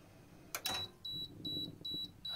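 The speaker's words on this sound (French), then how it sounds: "on a une petite alarme avec le code 1888 qui clignote" Alarm on a Deville kerosene heater fitted with a CO2 sensor, sounding as a series of four sharp, evenly spaced electronic beeps just after start-up, close and clear over a quiet room hum.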